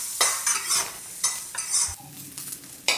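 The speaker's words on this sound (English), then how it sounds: "Stir fry them for about 1 minute." Fried rice ingredients being stir-fried in a hot pan, a steady sizzle broken by repeated scraping strokes of the spatula, close and fairly loud with no voices.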